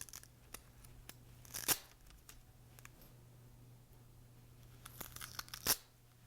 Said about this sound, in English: Velcro tape.